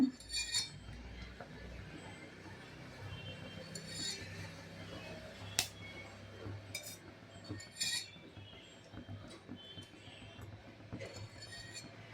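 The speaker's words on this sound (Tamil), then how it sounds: "கடாய் வச்சு எண்ணெய் ஊற்றிக்கிறேன்" A kadai pan is set on the stove with metal clinks and oil is poured in for an okra stir-fry, faint and close, scattered light knocks and clinks over a quiet room.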